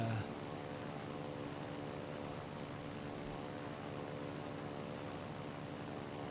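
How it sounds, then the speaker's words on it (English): Biplane engines from World of Warships: Legends, a steady droning propeller hum that holds evenly throughout at moderate volume, with no one speaking over it. "I like my little biplanes."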